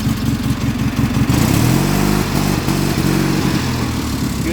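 A Harley-Davidson Shovelhead motorcycle engine with a rebuilt burnt top end runs loud and close, its lumpy idle lifting into a throttle rev partway through and settling back to a steady, uneven chug.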